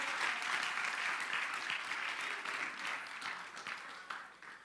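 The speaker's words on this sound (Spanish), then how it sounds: "Un aplauso grande al maestro" Warm applause rises from a church gathering for the teacher, a continuous round of many people clapping, fairly steady and moderately distant, easing slightly near the end.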